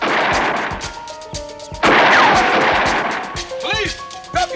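Loud gunfire rings out in a police shootout near a drug lab, a rapid string of sharp cracking shots and a heavier blast close by, with shouting voices mixed in.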